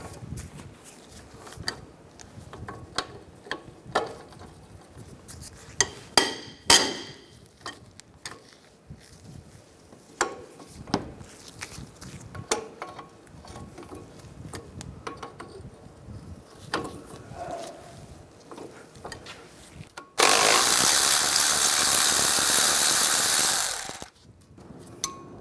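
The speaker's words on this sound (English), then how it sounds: "Now we're going to loosen up these caliper bracket bolts." A ratchet and socket click in short bursts while loosening the caliper bracket bolts on the front brakes of a 2007-2013 Mini Cooper, followed near the end by a loud, steady whir of a power tool lasting about four seconds.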